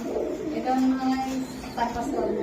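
Pigeons coo in low, steady murmurs at a pigeon farm, some of them fantail, lakkha and satin breeds kept with their young, a close, continuous soft cooing with people talking over it.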